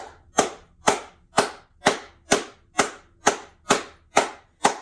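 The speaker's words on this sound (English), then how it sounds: "If you clap, do 11 times because 11 is for new beginnings. And you want loud, crisp thuds." Eleven loud, crisp hand claps ring out one after another in an even, unhurried rhythm, each a sharp smack close by with a short decay and no voices.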